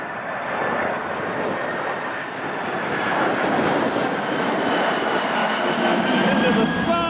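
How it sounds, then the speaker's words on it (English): A Boeing 767 bound for Brussels roars steadily overhead on final approach with flaps down to runway 28 Center at O'Hare Airport, a loud broadband jet rumble that swells slightly and holds without talk. "767 for Brussels. Flaps down on approach, 28 center, O'Hare Airport."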